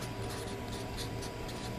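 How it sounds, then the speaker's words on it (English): Marker writing on a board while a PLC program is being explained, a continuous scratchy squeak with short strokes over a faint low hum. "let me write it over here, we can read"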